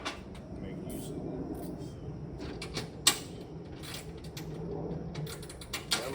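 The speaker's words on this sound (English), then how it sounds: "I love the ratchet wrenches." A ratchet wrench snugs down the bolts of a 2024 JFTops aluminum tonneau cargo cover. A few sharp metallic clicks stand out over a steady low background rumble, with faint voices nearby.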